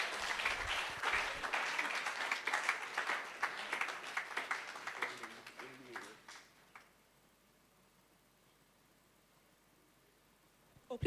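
Warm applause from a conference audience greets a paramedic specialist at an emergency medicine gathering, strong and rhythmic for about six seconds before tapering off into near silence.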